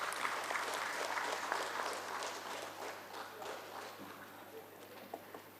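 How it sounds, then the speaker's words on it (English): An audience at a stock exchange SME listing ceremony gives steady applause, a dense, even patter of clapping that fades slightly toward the end. "please give them a big round of applause"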